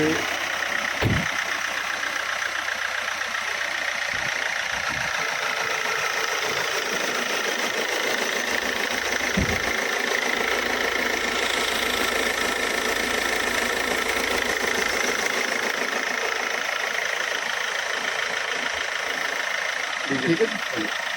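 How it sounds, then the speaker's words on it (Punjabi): A Hyundai Verna CRDi diesel car engine idles with a steady, rumbling drone and a faint knocking, while voices murmur quietly beneath it. "ਇਦਾਂ ਦੀ ਸਟਾਰਟਿੰਗ ਆ ਇੰਜਨ ਦੀ ਵਾਇਸ ਜਿਹੜੀ ਹੈਗੀ ਆ ਬਿਲਕੁਲ ਤੁਸੀਂ ਚੈੱਕ ਕਰ ਸਕਦੇ"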